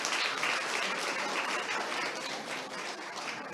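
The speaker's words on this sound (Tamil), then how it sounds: "எங்கே அவருக்குரிய கரகோஷத்தை மீண்டும் ஒரு முறை உங்களிடம் எதிர்பார்க்கின்றோம்." Steady applause from an audience at a Tamil New Year cultural programme held by Merton Tamil School, dense continuous clapping filling the whole moment with no talk over it.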